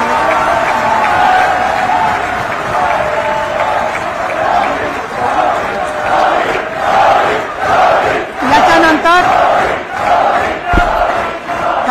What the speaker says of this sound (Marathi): आपल्या कर्णधार रोहित शर्मा यांचं आपण टाळ्या वाजवून जोरदार स्वागत करूया